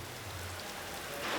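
Heavy rain pours down in a steady, dense hiss near a volcano in Indonesia, holding constant and swelling slightly louder toward the end, with no voices.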